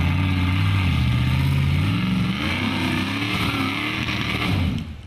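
A 4x4 trials vehicle's engine revs hard and steadily while cornering at a trials round in Feilding, New Zealand, a loud close growl that wavers in pitch before dropping off at the end.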